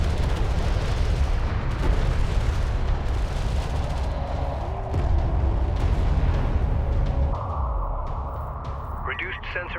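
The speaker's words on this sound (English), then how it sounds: "Enemy railgun firing on friendly." Railgun fire in the Homeworld: Deserts of Kharak battle sounds as a continuous roar of heavy booms and blasts, loud and dense throughout, with a radio-style voice speaking over it.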